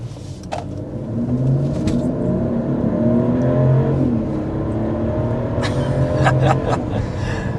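A 2025 Mercedes GLS 450 SUV engine pulls hard and steadily rising in pitch as it accelerates up to 60 mph, heard from inside the cabin with a constant road roar.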